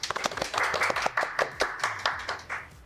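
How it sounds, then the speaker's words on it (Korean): Audience applause welcoming a presenter at a Korean live IT tech talk on Azure cloud-native apps: a close, steady burst of many hands clapping in quick irregular rhythm, lasting about three seconds without speech. "박수 부탁드립니다"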